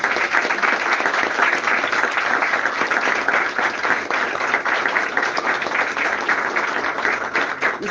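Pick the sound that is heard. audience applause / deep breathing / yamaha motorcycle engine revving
audience applause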